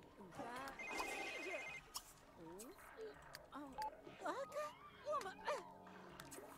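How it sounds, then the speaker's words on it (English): A phone rings in a room while people keep talking over it, the electronic ringtone sounding in repeated bursts near the start before the voices take over. "Whose phone is ringing?"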